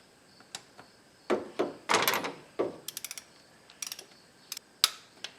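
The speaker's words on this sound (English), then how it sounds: "have your torque wrench set at 18 foot-pounds" A torque wrench tightening a spark plug in a Toyota 3.3 liter V6: scattered metallic clicks and ratcheting bursts, close and sharp, with short gaps between them and no talk.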